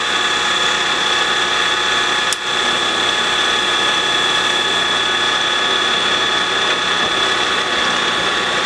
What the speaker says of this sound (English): I can just come in and countersink all these holes, really just to break the edges